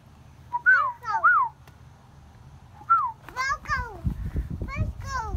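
Bright, rising and falling whistled chirps come in short bursts, then a voice and other voices crowd in toward the end.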